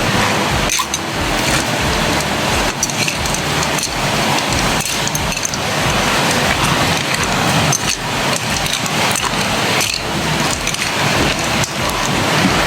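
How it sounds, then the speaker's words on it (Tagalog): Heavy rain pours down in a steady, dense roar that keeps up without a break, with a few sharper spatters and thumps scattered through it and no talking. "Grabe ang ulan, ang lakas ng ulan"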